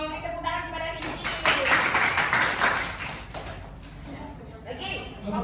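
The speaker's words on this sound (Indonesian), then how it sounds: "Tepuk tangan kepada Cincin." Classroom applause for a student during a microteaching lesson in Indonesia, a burst of scattered hand claps from pupils that swells and fades over several seconds, mixed with children's chatter and voices.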